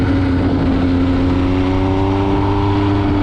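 A 2020 MV Agusta Brutale 800RC motorcycle engine runs loud and steady on the road, its pitch climbing in smooth harmonic sweeps as the rider accelerates through the gears, with no voices over it.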